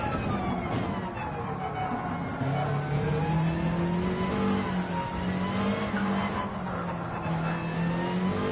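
A Subaru WRX Gr.3 race car in Gran Turismo 7 on the Nürburgring GP circuit gives a continuous engine whine, its pitch rising and falling with gear changes, heard alone without talk.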